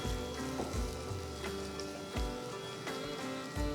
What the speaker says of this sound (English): Then add a small cup of chopped coconut pieces and fry them until nice and golden.